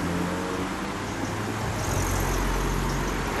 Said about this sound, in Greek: ακούω ένα αυτοκίνητο να έρχεται από πίσω μου